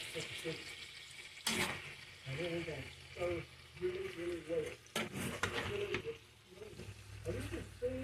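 Russet potatoes cook in a skillet with a soft frying sizzle under a person talking, punctuated by a couple of sharp utensil clatters against the pan.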